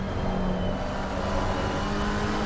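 GT3 race cars at Silverstone in Assetto Corsa Competizione drone with a steady, sustained engine whine, a constant mid-level roar that holds evenly without pause or speech.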